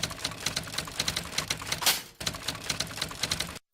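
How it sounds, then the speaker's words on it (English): Rapid clattering keystrokes on a court reporter's stenographic shorthand machine, a dense run of close, crisp taps that pauses briefly midway and then resumes at the same quick pace. "It's a stenographic machine that I use."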